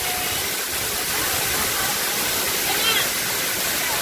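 Batlag Falls, a waterfall with a swimming lagoon, pours in a steady, loud, close broadband rush that fills the whole stretch without pause, with a voice speaking faintly over it.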